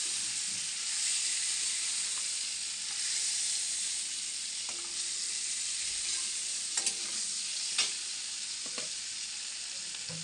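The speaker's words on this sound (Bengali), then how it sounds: "এটা বেশি ভাজবো না, তাহলে হয়ে যাবে।" Food frying in oil in a pan for a Bengali lal shak, masoor dal and prawn banana flower dish, a steady bright sizzle with scraping stirs and a few clinks, close and continuous with no talk.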